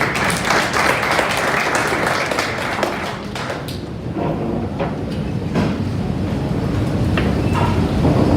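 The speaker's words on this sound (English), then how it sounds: "Please give him a round of applause." Audience applause at an AWS Blockchain Day conference session, a dense, steady wash of clapping lasting several seconds at a fairly loud, even level with no speech over it.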